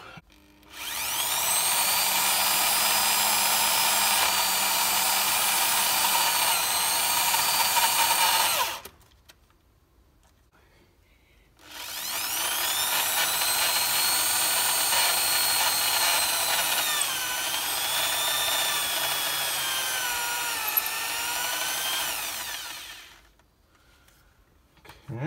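A power drill bores into a Porsche sports exhaust in two long, loud, steady runs, each lasting several seconds with a brief pause between, with no talk.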